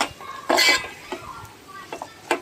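Dried fish, potatoes and masala fry in oil while being stirred, heard as a few close scraping strokes and clinks of a spoon against the pan over a soft background sizzle.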